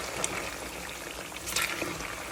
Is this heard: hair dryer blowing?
no